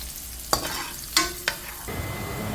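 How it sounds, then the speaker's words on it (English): Carrots, garlic and dried chili sauté in a pan, a steady close sizzle with three sharp clinks of a utensil stirring against the pan. "let the carrots, garlic, and dried chili saute before adding the corn"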